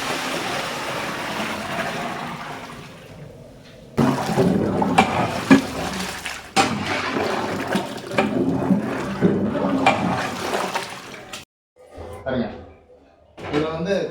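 Tamarind gravy is poured into a cooking pan, making a loud, sustained watery pour and splash that stops and then restarts in short bursts, with a voice speaking over it.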